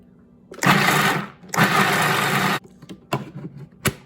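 Wet-grinder or mixer whirring loudly while grinding chana dal batter with red chili, turmeric, curry leaves and green chilies and no added water, in two sustained runs of about a second each, followed by brief clatters and short bursts.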